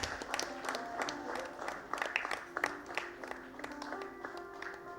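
Audience at a nursing award ceremony for staff nurses and corona warriors clapping in scattered, uneven bursts. An amplified voice speaks over the fairly quiet clapping.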